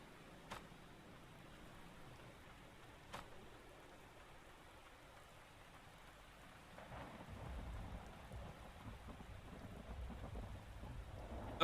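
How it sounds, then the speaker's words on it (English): Video game thunderstorm: steady rain falling on surfaces with a couple of sharp thunder cracks early on, the downpour growing heavier and louder toward the end, with no talk. "Okay, it's raining."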